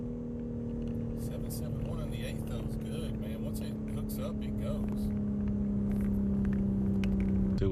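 A 2023 BMW M3 Competition drones steadily from inside the cabin on a drag strip, its engine tone holding level and slowly building, while a voice talks throughout.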